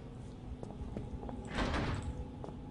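A door opens in the horror game Penumbra, a low scraping, sliding swell with faint knocks before it, quiet and heard alone.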